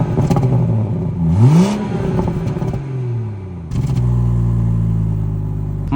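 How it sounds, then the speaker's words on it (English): A 2019 BMW 440i xDrive's inline six-cylinder engine and exhaust rev up loudly, dip back, then settle into a steady, close rumbling drone with a rising and falling engine note. "I really do love how this 6-cylinder sounds."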